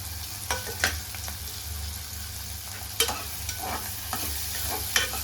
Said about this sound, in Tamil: காஞ்ச மிளகாய் போட்டு நல்லா வதங்கின பிற்பாடு தக்காளி போடலாம்.